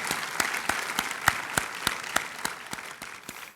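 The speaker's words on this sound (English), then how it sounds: "I think that deserves a round of applause" Audience applause in a theater at a NASA anniversary talk with an Apollo astronaut, heard as a steady run of sharp, evenly spaced claps over a soft bed of clapping, fairly close and without speech.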